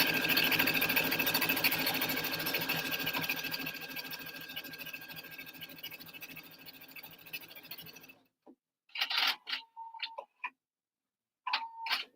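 A Viking Designer Topaz 50 sewing machine stitches a buttonhole with a steady fast mechanical whir and tick for about eight seconds, then stops, leaving a few short whirring bursts and beeps, close and alone.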